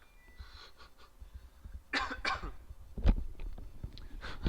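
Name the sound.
cough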